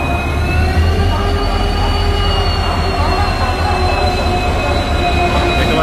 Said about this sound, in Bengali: এই হচ্ছে ট্রেন ঢুকে গেল, করমণ্ডল এক্সপ্রেস।